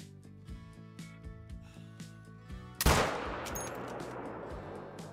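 A single 6.5 hunting rifle shot in theHunter: Call of the Wild on a savanna map, one loud sharp crack followed by a long rolling echo over a quiet ambient music background.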